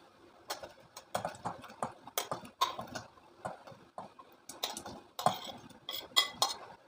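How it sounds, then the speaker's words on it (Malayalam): Chopped elephant foot yam pieces drop into a pot of boiling water, making a close series of sharp clattering taps and clinks that come in irregular bursts with no talking. "നമുക്കിതിലേക്ക് കട്ട് ചെയ്ത് വെച്ചിരിക്കുന്ന ചേന ഇട്ട് കൊടുത്തേക്കാം"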